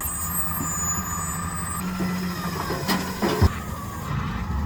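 A junk pickup truck pulls in to collect from a hoarder's home cleanout, its engine rumbling steadily with a brief air-brake-like hiss and clunk near the end, fairly close.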